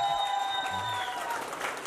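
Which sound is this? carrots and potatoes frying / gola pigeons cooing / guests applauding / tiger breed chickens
guests applauding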